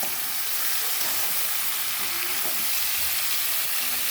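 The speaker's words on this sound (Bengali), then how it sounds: "ঢাকনাটা তুলে একটু খুঁটির সাহায্যে নাড়াচড়া করে নেব" Fish frying in oil in a covered pan, stirred with a spatula once the lid is lifted, giving a steady, loud sizzle with faint scraping throughout and no talk.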